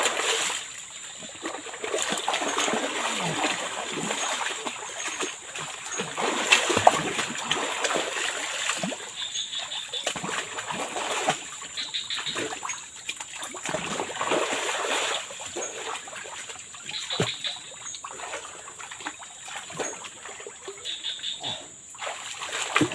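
A swollen forest stream at a camp under overcast, drizzly skies, its water splashing and trickling in a continuous moderate rush with brief louder splashes.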